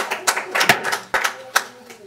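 A few scattered, sharp hand claps ring out from the audience at a Sandusky city commission meeting, sparse and uneven over murmuring voices in the chamber.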